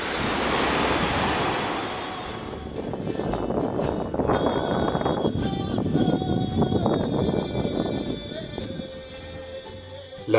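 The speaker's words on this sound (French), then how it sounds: "Les vagues roulent les galets" Surf breaks and drags pebbles on a Canary Islands beach, a loud, continuous wash of rushing water with a rattling, grinding edge, with wind noise buffeting the microphone throughout.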